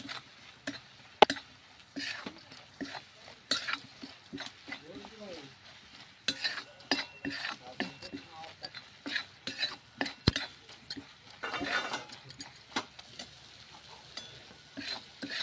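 Onion masala with red chilli powder being sautéed and stirred in a pan, intermittent scraping and clinking spatula strokes over a faint sizzle, moderately close, with scattered background sounds.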